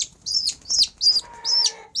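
Chicks cheep in loud, high repeated bursts close by, with a hen clucking softly underneath and no one talking.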